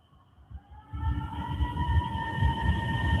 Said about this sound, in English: Oh, it's a coyote, dude.